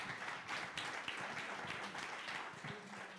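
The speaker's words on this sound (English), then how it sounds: "Round of applause." Faint, distant applause from a workshop audience, a scattered round of clapping with a few sharper individual claps and some low murmuring voices mixed in, quiet overall.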